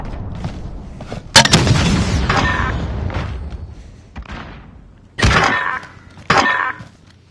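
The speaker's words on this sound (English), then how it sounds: "Enemy cruise missile incoming!" Explosions from an incoming cruise missile strike in Modern Warfare, a loud cracking blast followed by rumbling debris, then two more sharp booming impacts a few seconds later.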